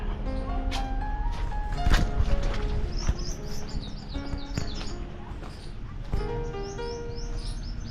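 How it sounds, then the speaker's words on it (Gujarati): Many birds chirp and call around a Merdi Mataji temple, dense overlapping tweets and whistled notes close by, with sharp louder calls and a few soft coos against a steady chattering background. "પક્ષીઓનો કલરવ બહુ મસ્ત છે"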